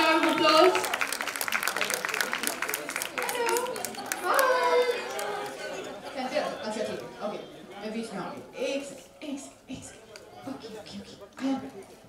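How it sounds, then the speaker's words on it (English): An audience claps for a special guest at an indoor celebrity event for a film project: a dense wash of clapping loudest at the start, then thinning and fading under chatter and voices. "A big round of applause."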